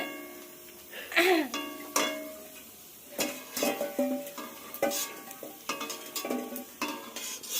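Fuchka puris being lifted from hot frying oil, with intermittent sizzling, clinks of a utensil against the pan, and some stirring, up close in a home kitchen.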